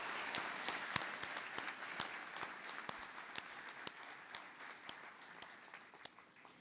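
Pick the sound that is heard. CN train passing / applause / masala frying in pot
applause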